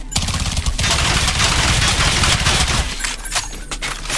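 Gunfire from a weapon in the Third Person Shooter Kit video game, a loud rapid burst of automatic shots firing continuously for a few seconds, then tapering into scattered trailing echoes.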